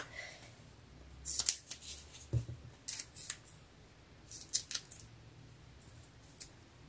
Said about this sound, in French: Donc je vais en couper un petit bout.